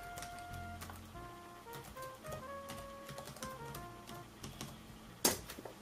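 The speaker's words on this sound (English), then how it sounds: "So we'll type that in." Soft, quick key taps on a laptop keyboard, a short burst of typing with a sharper click near the end, heard close and alone over faint background tones.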